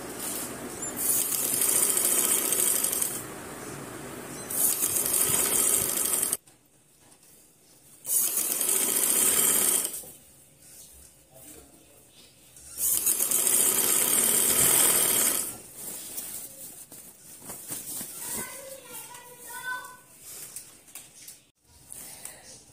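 Sewing machine stitching a folded katan silk trouser seam: bursts of rapid, steady mechanical whirring lasting a few seconds each, separated by quiet pauses with small handling noises, fairly close.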